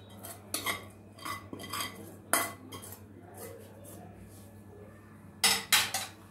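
Cooked poha being emptied into a bowl, with scattered spoon scrapes and clinks against the dishes and a few louder knocks, quiet and close, no talking.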